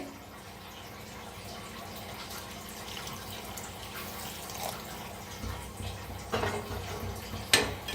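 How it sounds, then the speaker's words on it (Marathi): A steady stream of water pours into a pot of masoor dal with onion, close by, growing slightly louder and splashier toward the end. "आता ह्याच्यात ओतायचं थोडंसं पाणी, म्हणजे डाळ आणि लगेच शिजते।"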